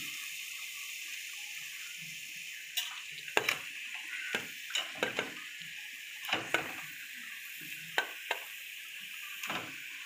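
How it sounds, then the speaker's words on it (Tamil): Chicken biryani cooking as meat is stirred into sautéed onion and tomato in a pan: a steady soft sizzle with scattered scraping and ticking utensil knocks, no voices. "இப்போ கறியை போட்டு கிண்டலாம்."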